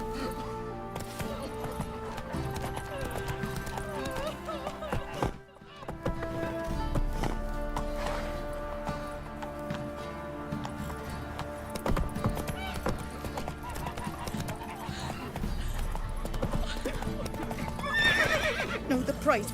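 Roach, the horse in The Witcher 3 video game, gallops with rapid clip-clopping hoofbeats and lets out whinnying neighs over layered game music and background voices.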